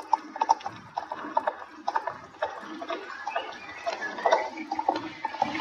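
A horse's hooves clip-clop in an uneven series of sharp knocks at moderate distance, with some faint watery splashing mixed in and no talking.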